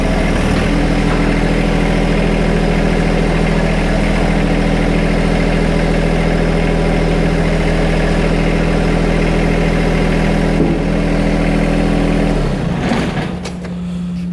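A John Deere 120R tractor engine drones steadily at close range, its pitch and load shifting slightly as the front-end loader cycles up and down hydraulically, then it cuts off near the end.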